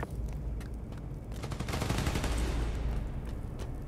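Rapid bursts of gunfire in the video game Spider-Man Miles Morales, dense and continuous over a low rumble, swelling louder toward the middle and staying steady to the end.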